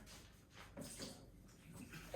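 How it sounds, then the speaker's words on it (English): Water poured from an Ora V3 kettle for a lakeside pour-over coffee, a steady close splashing trickle that runs alone for about two seconds with no talk. "Let me pour my water out here."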